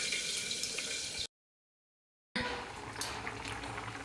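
Rice and potatoes boiling in a pot on a home kitchen stove, a steady close bubbling hiss that cuts out completely for about a second midway and then resumes just as before.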